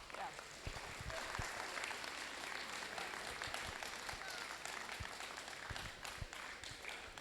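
An audience claps at a robotics competition, a FIRST Tech Challenge qualifier, with broad steady applause and scattered sharper claps, somewhat distant and faint, lasting the full seven seconds.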